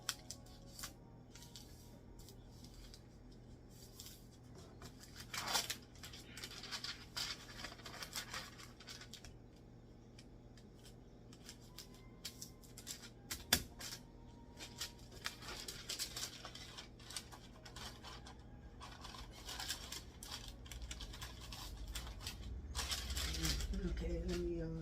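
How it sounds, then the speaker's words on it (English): Parchment paper being cut with scissors and pressed into bread pans at home, with crisp snipping, rustling and scattered clatter through most of the clip, moderately close and fairly quiet, with no talk. "we are going to get our pans prepared by putting some parchment paper in them"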